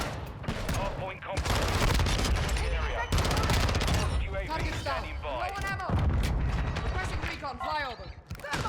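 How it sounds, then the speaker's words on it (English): Pistol shots ring out in Modern Warfare 2, firing in quick repeated bursts that stay close and loud amid other game effects, while a player talks over much of the action. "Dude, this pistol's so fun."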